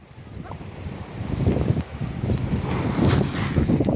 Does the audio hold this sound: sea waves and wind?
yes